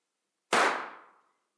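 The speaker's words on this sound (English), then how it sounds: "remember, that explosion is like this one" A single sharp bang from a small explosion in an engineering demonstration, sudden and loud, then decaying over about a second into silence.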